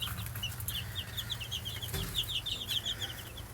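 Chickens clucking in a backyard chicken yard area, a steady run of short chirpy calls and clucks throughout over a low outdoor rumble.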